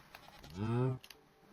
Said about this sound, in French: juste ici, on a des chèvres